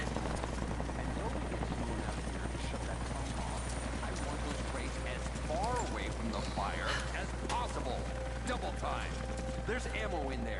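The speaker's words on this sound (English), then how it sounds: "That was Constantine's chopper." A military helicopter from the video game Rise of the Tomb Raider beats steadily overhead with a continuous rotor thrum, with hoof-like clopping and voices over it.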